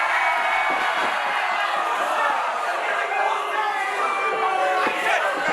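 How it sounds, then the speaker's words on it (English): A wrestling crowd at a Glory Pro Wrestling show cheers in a steady, loud wall of noise, with a few sharp thuds from the ring and a commentator talking over it. "it's going to be a war of adulation from the crowd"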